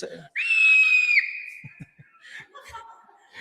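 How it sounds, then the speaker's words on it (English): A single high, sustained scream held for nearly a second near the start, loud and sharp, followed by scattered quiet chuckles and brief voices. "Scream."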